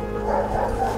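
Police service dog barking during a handler training session, a dense close bark layered with ongoing noise and no clear gaps across the second.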